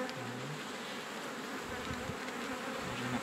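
A crowd of honeybees hums continuously around an open hive as foragers return from blooming rapeseed fields during a spring inspection, the steady close buzz broken by a few louder passing drones of individual bees, with no talking.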